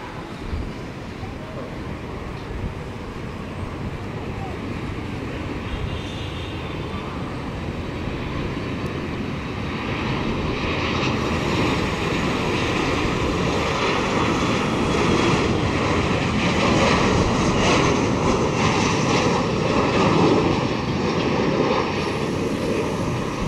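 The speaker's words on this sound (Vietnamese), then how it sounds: "đường băng 25 phải, nơi một chiếc Boeing 737 của China Airlines từ Đài Trung về đến sân bay Tân Sơn Nhất" A China Airlines Boeing 737 coming in on runway 25R at Tan Son Nhat airport, a continuous jet engine roar heard from a distance that swells louder partway through and holds steady.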